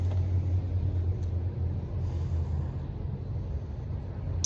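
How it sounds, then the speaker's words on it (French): Constant low road rumble of motorcycles and cars passing nearby, a steady droning wash of vehicles with no clear pauses. "les motos et les voitures à la con qui passent à côté"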